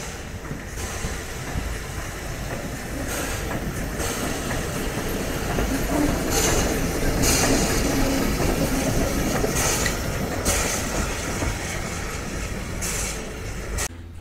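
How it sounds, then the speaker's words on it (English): A steam train with Pullman coaches on the Kent & East Sussex Railway rumbles steadily past up close, with a continuous heavy roar, rhythmic wheel clatter and hissing, no pauses throughout. "we get to see some of these wonderful old steam trains in action"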